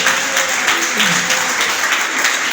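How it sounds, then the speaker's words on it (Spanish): A church congregation applauds steadily throughout, a dense, continuous wash of clapping at close range. "Denle un aplauso al Señor."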